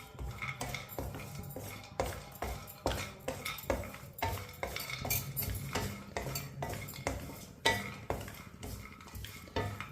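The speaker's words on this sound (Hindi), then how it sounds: "दो मिनट के लिए चम्मच चलाते हुए मैंने भून लिया है।" Semolina roasting over low heat for suji halwa, a spoon scraping and knocking against the pan in a quick, steady rhythm of close, distinct strokes throughout, no voices.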